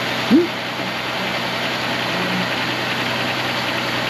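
A 1994 Buick Regal GS engine idles steadily and close by, a constant low hum with a brief chirp near the start.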